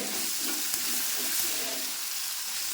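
Sliced onions with a pinch of salt sautéing in a pan, giving a dense continuous hiss of frying with faint stirring movement throughout, close and even in level, no talking.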